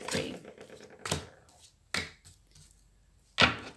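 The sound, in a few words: shuffling a deck of cards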